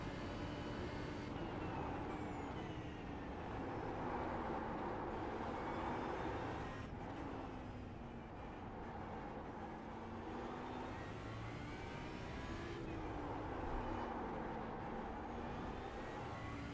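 Race car engine in the iRacing sim at Mid-Ohio, a continuous droning whine that rises and falls with shifts and corners, steady and somewhat faint throughout.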